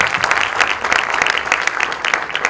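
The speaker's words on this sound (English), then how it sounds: "Please applaud them." A music launch audience applauds loudly and close, a dense, continuous burst of many hands clapping with no pause.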